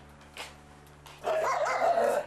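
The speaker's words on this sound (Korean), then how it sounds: "고미를 보자마자 맹렬히 짖는 복실이" A large dog barks fiercely at another dog, a few loud, close, harsh barks erupting after a quieter start and running continuously to the end.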